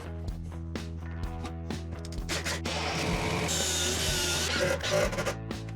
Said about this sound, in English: we'll just brad nail and screw it in place